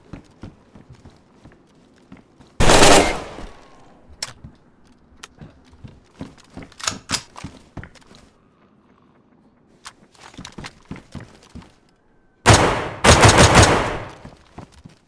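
Two loud, close bursts of rapid automatic gunfire from the video game DayZ, one near the start and one near the end, separated by scattered footsteps and clatter.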